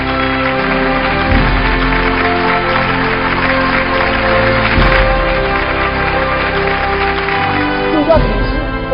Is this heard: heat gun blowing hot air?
no